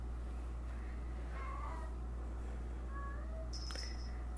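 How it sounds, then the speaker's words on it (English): A domestic cat meows a few times, fairly quiet and close, over a steady low background hum with no talking. "This is my cat."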